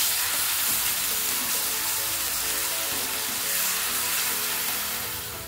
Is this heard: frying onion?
yes